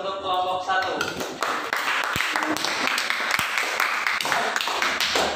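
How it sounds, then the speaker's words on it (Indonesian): A classroom group applauds a student team after a math lesson presentation, the dense patter of clapping filling the room steadily and fairly close throughout. "berikan aplaus untuk kelompok 1"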